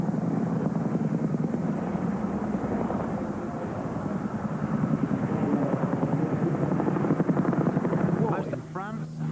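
Chinook twin-rotor helicopter at an airshow, a loud continuous rotor drone and engine roar throughout, with a commentator talking over it on the public address.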